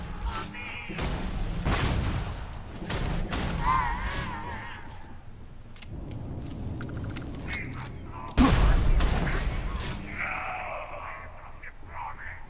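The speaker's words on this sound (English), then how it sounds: "I seriously hate you, grenade launching motherfuckers." Grenade launcher blasts and gunfire in the video game Starfield, a dense run of booming explosions and shots with a heavy hit near the middle, mixed with game radio chatter.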